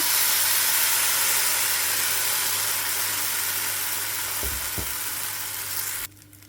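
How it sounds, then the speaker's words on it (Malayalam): Batter for an unnakkaya pola, a Ramadan dish, sizzles in ghee in a hot pan. The hiss is loud and continuous, with a couple of soft knocks near the end before it suddenly drops away. "അടിച്ചു വെച്ചിരിക്കുന്ന മാവ് പകുതി ഒഴിച്ച് കൊടുക്കുക"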